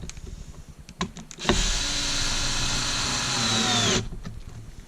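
Small metal sheet screws are driven into an actuator for a homemade remote bird launcher, a few light clicks, then a steady close motorized whir lasting about two and a half seconds before stopping.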